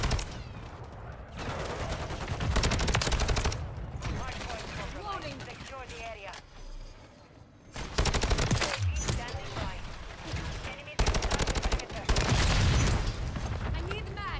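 Heavy automatic cannon fire from a VTOL gunship in Call of Duty MW3 comes in loud sustained bursts with brief pauses between them, while a player talks over the action.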